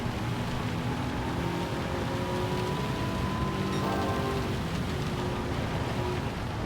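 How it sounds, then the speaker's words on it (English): A rain downpour in Gran Turismo 7 during a Ford GT race at Le Mans, a steady dense hiss of rain under the constant drone of the race car's engine. "We are going to get a little downpour as we go down here"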